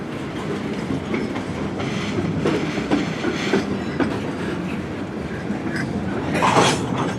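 A CSX freight train hauled by three SD70M-2 locomotives rolls past close by with a continuous rumble and rhythmic clickety-clack of wheels on rail joints, and a brief metallic wheel squeal near the end.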